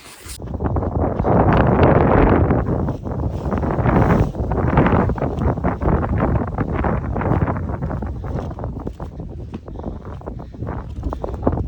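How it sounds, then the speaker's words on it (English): Wind gusts across a mountainside in Hawaii, a loud, broad buffeting roar that surges and pulses against the microphone for several seconds, steady and close with no voices. "It's a little windy this morning"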